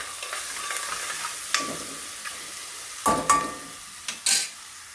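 Vegetables frying and sizzling in a pan while pasta is being prepared, a steady hiss broken by a few sharp bursts of louder sizzling as the food is stirred, close and without talk.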